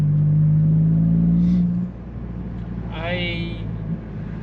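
A Toyota GR Corolla fitted with an AWE exhaust rumbles close by with a steady droning tone that drops off, followed by a brief rising rev as the engine note climbs and settles, with a voice speaking over it.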